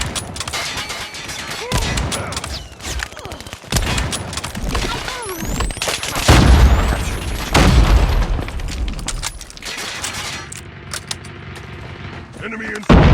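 Rifle fire from The Gold Rush 3 Line Rifle video game: repeated sharp shots and booming bursts scattered across the stretch, loud and close, with a voice talking over parts of it.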